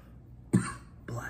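A man coughs twice during a live resin smoking session, a loud harsh burst followed by a shorter second cough, close to the microphone.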